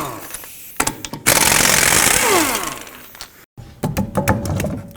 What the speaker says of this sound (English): go ahead and take off the lug nuts with a 19mm